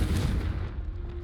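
A Confringo blasting spell cast in Hogwarts Legacy, one loud booming blast at the start that fades into a rumbling tail, with no voices.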